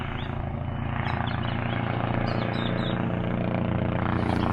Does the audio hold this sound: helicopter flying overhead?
yes